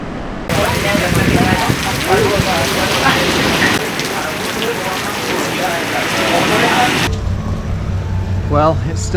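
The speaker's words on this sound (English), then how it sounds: "Well, it's still raining, but I want to keep shooting." Steady heavy rain falls on a beach in Bali, a dense continuous wash close by that runs throughout with no let-up.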